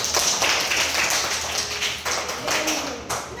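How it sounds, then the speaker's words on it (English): Schoolchildren clap in a classroom, a dense run of quick overlapping hand claps with a voice or two mixed in, steady and fairly close throughout. "Clapping करो सब लोग"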